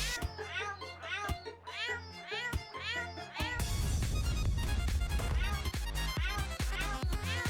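A cat meows repeatedly, several short rising cries in a row at close range. A person talks over it as loud game music starts partway through.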